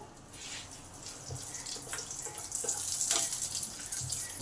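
Cumin seeds with a green chilli and a broken dried chilli frying in oil in a pan give a steady, close sizzling hiss that swells a little toward the end, with no voices.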